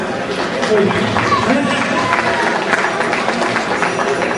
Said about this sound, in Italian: fate un applauso a Serena della trasmissione